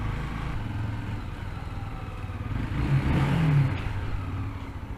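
A motorcycle engine near Blue Waters in Dubai rumbles, then swells into a short rev partway through before settling back to a low drone.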